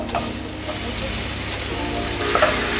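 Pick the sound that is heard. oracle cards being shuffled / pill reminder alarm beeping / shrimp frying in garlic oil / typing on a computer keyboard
shrimp frying in garlic oil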